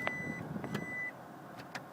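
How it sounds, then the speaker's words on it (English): A Toyota Prius in reverse gear gives a quiet, thin warning beep, with a few faint, short tones over a low background hum. "When you put in reverse, it does this annoying beeping sound to let you know that you're in reverse"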